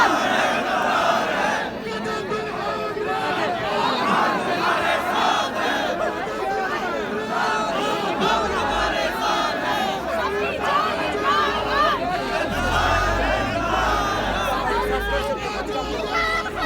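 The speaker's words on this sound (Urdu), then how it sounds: "یہاں مختلف نعرے لگائے جا رہے ہیں عمران خان کی حمایت میں" A large outdoor crowd of supporters chants slogans for Imran Khan, a dense roar of massed voices and rhythmic shouting that holds loud and steady, with a low rumble joining in near the end.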